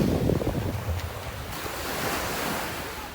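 Atlantic Ocean surf rolls in on a Sunday-morning beach in Georgetown, Guyana, a steady wash of waves with gusting wind buffeting the microphone, and no voices.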